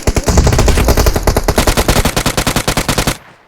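Gunfire in the video game PUBG Mobile: a loud, close, rapid automatic burst of about twenty evenly spaced shots that stops abruptly after about three seconds.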